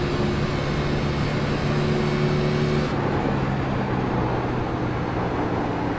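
In the iRacing game, a NASCAR Cup car at Pocono Raceway gives a continuous engine drone that changes pitch partway through as it downshifts, with no voices.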